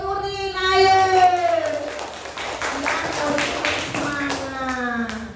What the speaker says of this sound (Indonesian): Tepuk semangat untuk Nurin, ayo.